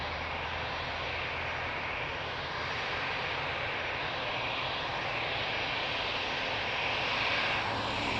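A jet airliner taking off from runway 02 at Lisbon Airport gives a steady, broad engine roar that swells slightly toward the end, heard from a distance without voices.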